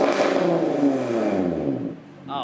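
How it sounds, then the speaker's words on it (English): A race car engine revs up loudly nearby, the pitch climbing and then falling away as the throttle closes, ending with a brief sharp burst. "Give me a good one. A rev."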